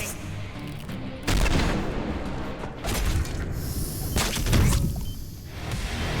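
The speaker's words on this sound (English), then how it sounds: "I got shot in the face almost instantly" Rapid bursts of gunfire in the online shooter Pioner, loud and close, with several clustered volleys over a steady noisy background.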